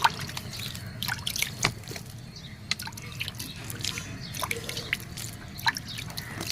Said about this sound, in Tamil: இந்த தண்ணி கொஞ்சம் தெளித்து விடலாம்